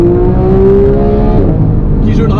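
Porsche 911 GT3 of the 991.1 generation revving hard, its engine note climbing steadily in pitch, then easing off as the revs drop; loud and close, with a voice speaking over it.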